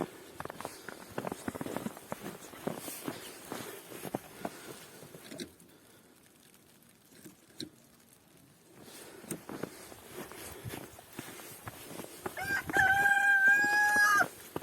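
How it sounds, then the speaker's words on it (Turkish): A rooster crows once near the end, loud and close, outside in snow at a farm coop, after a stretch of shuffling footsteps and rustling with a quiet pause in the middle. "Horoz"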